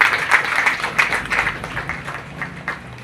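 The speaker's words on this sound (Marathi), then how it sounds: "या सगळ्या महिलांना टाळ्या वाजवा महिलांसाठी" An audience clapping for women at an Agri community gathering, a short burst of dense, uneven applause heard close, with crowd murmur underneath.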